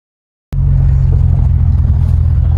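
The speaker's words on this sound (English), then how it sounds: "It's got this lopsided idle to it" A Honda S2000 that sat unused for years, with suspected failing fuel injectors, fires up and settles into a loud, close, uneven rumbling idle with a lopsided, lumpy beat.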